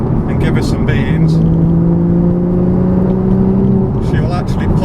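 Porsche Cayman engine pulling under acceleration from inside the car, a steady low drone with a rising tonal whine, continuous and loud while people talk over it.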